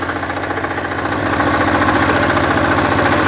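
A WEIMA walk-behind tractor engine runs steadily nearby, a loud, continuous rhythmic chugging throb that swells slightly partway through, with no talk.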